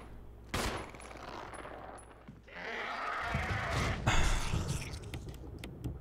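Gunfire in Resident Evil HD Remaster. A sharp shot rings out early, followed by a stretch of rumbling, echoing game noise and then a cluster of heavier impacts and blasts at moderate loudness.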